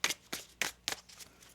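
A tarot card deck being shuffled, four quick crisp riffling bursts close and quiet, evenly spaced in a short rhythm, with no talk.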